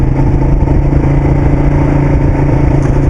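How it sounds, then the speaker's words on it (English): A 2011 Ducati Diavel Carbon's engine rumbles steadily with a deep, throaty exhaust growl, loud and close, holding an even throttle in second gear without revving. "Still got a lovely growl coming from the exhaust."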